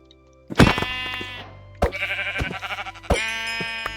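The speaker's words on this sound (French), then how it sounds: "ah bah c'est un mouton là-bas" Sheep bleat in a survival video game, a few loud, wavering calls one after another, close and clear, with no talk over them.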